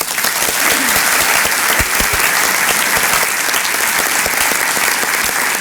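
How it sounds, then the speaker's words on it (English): A breakfast audience gives a loud, dense round of applause, many hands clapping steadily and close for several seconds with a faint crowd murmur underneath. "we'll give everybody a round of applause."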